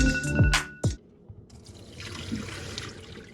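Cold tap water runs into a sink as something is washed. A short clatter and squeak come first, then a steady, soft rushing flow continues alone.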